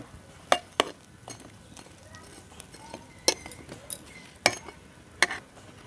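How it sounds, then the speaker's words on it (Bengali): A spoon stirs balushahi sweets in a bowl, giving a series of sharp metallic clinks and scrapes at irregular intervals, close and fairly crisp against a quiet background. "এবার আমি চামচ দিয়ে একটু মিশিয়ে মিশিয়ে নিচ্ছি এইভাবে"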